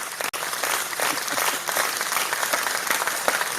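A live audience applauds steadily, dense clapping sustained and fairly loud throughout, with a brief dropout near the start and no clear talking over it.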